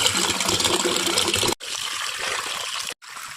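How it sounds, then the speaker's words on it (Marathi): Water gushes and splashes while soaked potato slices are rinsed for homemade potato wafers, a loud close pour broken by two brief pauses. "दुसऱ्या दिवशी ना चांगलं पाणी धुवून घ्यायचं."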